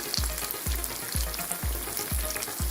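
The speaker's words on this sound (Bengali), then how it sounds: "ভেজে নিচ্ছি সবগুলো বেগুনি যেটা মিষ্টি কুমড়ো দিয়ে বানিয়েছি" Pumpkin beguni fritters deep-frying in hot oil give a steady, close sizzle with rhythmic low thumps about every half second; no voices.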